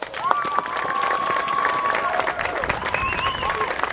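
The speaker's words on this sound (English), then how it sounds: "Ladies and gentlemen, I'd ask that you give them a round of applause." Crowd at the 2012 Colonial Cup pre-race show applauding new Army recruits, a sustained round of clapping heard at a distance over an outdoor PA, with tonal whistles or feedback drifting over the top.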